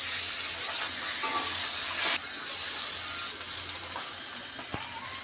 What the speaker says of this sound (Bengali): এখন আমি কড়াইতে তেল দিয়ে দিলাম, মাছটা ভাজে তেলটা গরম হয়ে গেছে। এখন মাছ দিয়ে দিলাম।